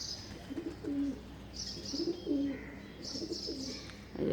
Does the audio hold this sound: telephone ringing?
no